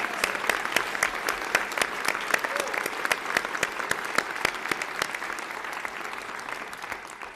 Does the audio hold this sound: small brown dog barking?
no